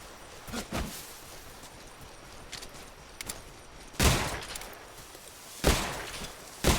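Gunfire in Metal Gear Solid Delta, with a few sharp broadband shots spaced apart over a low game background, two of them louder and sustained near the middle and end.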